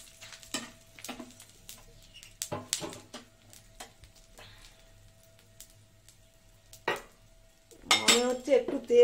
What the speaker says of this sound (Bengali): আর দিয়ে দেবো হলো এই যে পাঁচফোড়ন, শুকনো লঙ্কা আর তেজপাতা ফোড়ন দেবো।